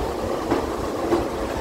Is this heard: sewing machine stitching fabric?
no